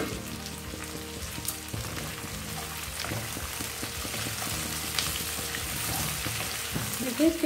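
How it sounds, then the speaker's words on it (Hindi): Onions frying in a pan for restaurant-style chilli paneer, giving a dense continuous sizzle over a faint low tonal hum, with small crackles and a louder burst near the end. "प्याज को भी ढक के पकाएंगे।"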